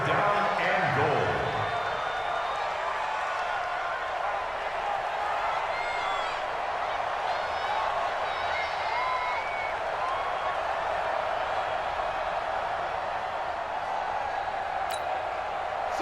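A stadium crowd roars at Arrowhead in Madden NFL 20, a continuous loud wash of crowd noise that holds steady the whole time, with a brief thump near the start.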